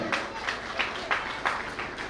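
Family members clapping at a sangeet gathering: fairly soft, slightly uneven rhythmic claps repeating about every third of a second, mixed with room murmur.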